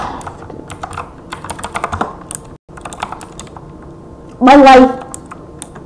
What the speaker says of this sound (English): So jitter clicking, it's really hard.